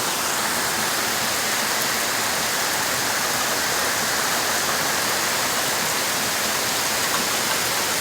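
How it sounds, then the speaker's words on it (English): Heavy rain pours down steadily in a storm with little wind, a dense, unbroken hiss of water holding at the same level throughout with no voices. "So it's just a heavy rain event, not much as far as wind goes"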